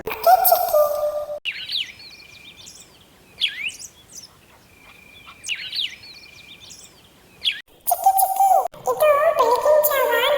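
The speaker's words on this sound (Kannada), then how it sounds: "ಇದು ಮುಂಜಾನೆ ಹೊತ್ತಲ್ಲಿ ಪಕ್ಷಿಗಳೆಲ್ಲ ಸೇರಿ ಮಾಡೋ ಕಲರವದ ಸೌಂಡು" A chorus of birds chirps and trills at dawn, with bright, high calls that come in separate bursts and pauses, alternating with denser, louder stretches of overlapping song.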